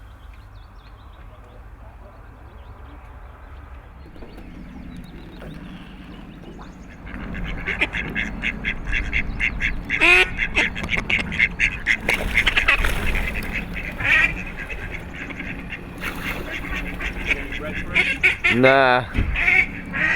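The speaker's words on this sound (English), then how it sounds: "Only the ducks disturb the tranquility." Ducks quack loudly and repeatedly close by on a canal mooring, a noisy cluster of calls in the second half, with a brief spoken word mixed in.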